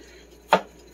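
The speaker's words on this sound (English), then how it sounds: "thinly slice these into little fingers" A knife makes a single crisp cut as it thinly slices ingredients for General Tso chicken into little fingers, one short close chop standing alone against a quiet kitchen background.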